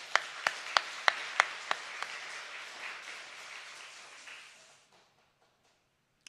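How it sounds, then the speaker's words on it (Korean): A church congregation at a Sunday morning service applauds to encourage its young people: a few distinct, evenly spaced claps ring out over a soft bed of clapping that thins and fades into near silence. "박수 보내드릴까요?"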